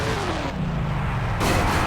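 Monster truck crushing cars in the Monster Jam Urban Assault game, a loud heavy booming rumble with engine roar and a sharp burst of noise near the end, no talking.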